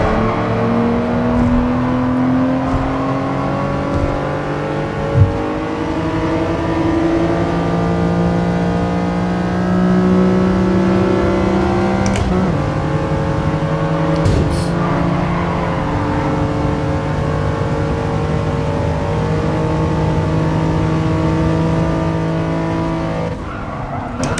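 In the video game Gran Turismo Sport, a race car engine revs hard toward 9000 RPM, rising and falling through gear changes, with brief tire squeals, loud and continuous without talk.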